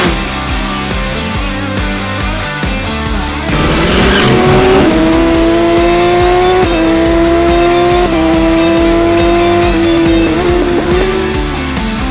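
An engine cranks and catches, then revs up and settles into a loud, steady running drone close by, rising and falling slightly.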